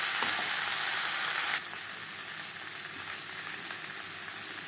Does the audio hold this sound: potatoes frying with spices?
yes